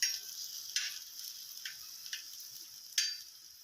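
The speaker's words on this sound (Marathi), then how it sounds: "याच्यावर मी तेल टाकलेलं आहे थोडं. आपल्याला कांदा लाल भाजायचा आहे." Chopped onion frying in a little oil in a pan while being browned for a Vidarbha-style aloo bonda rassa, a soft hiss with a few sharp crackles and pops scattered across a quiet background, no voices.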